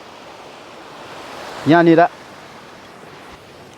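A river rushes steadily at its bank beside an outdoor cooking spot where chicken biryani is being made, a constant broadband wash with a brief spoken word midway.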